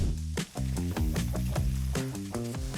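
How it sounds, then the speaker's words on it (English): Food tossed gently in a hot frying pan keeps up a busy, continuous sizzle, broken by repeated rhythmic scraping and shuffling strokes as the pan is shaken, close by with no talking. "I'm going to just toss this ever so gently"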